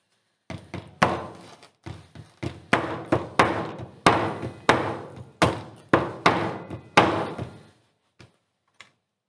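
A plastic wall plug being hammered into a hole, the kind used for hollow concrete, as a series of sharp, loud knocks in an uneven rhythm, about fifteen blows with short pauses, then two faint final taps.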